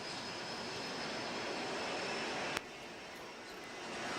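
Jet blast from an aircraft engine roars in a steady, loud, broadband rush that fills the air, with a single sharp click partway through.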